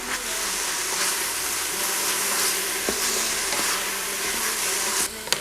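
Garlic sizzling and being stirred in an Instant Pot: a steady, hissing fry noise with occasional scrapes and knocks of a utensil against the pot, close and continuous.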